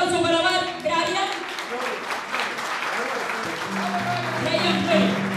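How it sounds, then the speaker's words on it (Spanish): Steady applause from a crowd fills the space, dense and continuous, with a voice speaking over it partway through. "fuerte el aplauso para Brian."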